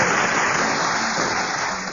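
Studio audience applause on a BBC Radio 4 panel show, I'm Sorry I Haven't A Clue, a dense steady wash of clapping filling the whole two seconds at close, even loudness, easing slightly at the end.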